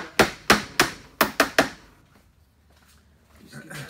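Six sharp, close taps drive a part into a PU foam wing mould in a quick irregular burst, followed by quiet and faint handling noise.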